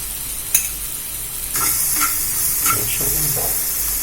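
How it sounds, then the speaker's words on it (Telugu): Aloo bonda filling of onions sizzles and fries in a pan, a steady close hiss with occasional spoon stirring scrapes and a sharp clack, no voices. "కాసేపు ఫ్రై చేయాలి"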